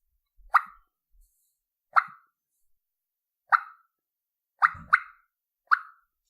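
Short, sharp pips imitating western Merriam's and Rio Grande turkeys, made on a turkey call: six quick poppy notes at irregular intervals, two of them nearly back to back, heard alone and close.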